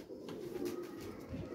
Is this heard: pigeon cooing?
yes